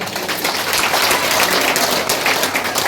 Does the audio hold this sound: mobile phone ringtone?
no